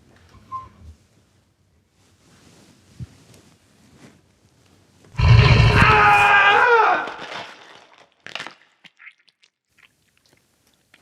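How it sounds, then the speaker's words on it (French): A bear devours a man, a burst of loud, harsh roaring and growling with crunching, chewing noises lasting a few seconds, set among quiet scattered clicks and rustles before and after. "Je crois qu'il vient de se faire bouffer par un ours."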